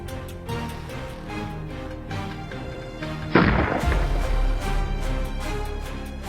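A gunshot goes off during a wild boar hunt in thick woods. One loud, sharp blast rises out of steady background noise and leaves a long, rumbling tail, with no talk.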